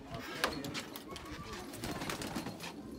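Pigeons in a pigeon loft give soft, faint coos and flutters amid a busy background, with scattered clicks and rustling.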